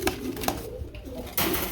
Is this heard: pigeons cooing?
yes